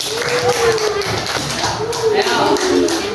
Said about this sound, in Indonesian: Tepuk tangan untuk kelompok Ken